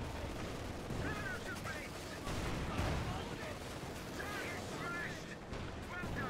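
Battle gunfire pounds a headquarters in Company of Heroes 2, with dense bursts of shots and booming blasts rolling continuously, loud and close.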